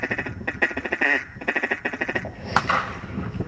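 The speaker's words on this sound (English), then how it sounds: "That's the chattering sound they make when they're feeding." Ducks chatter continuously with rapid, rhythmic quacking bursts, close by and steady, like a busy flock feeding.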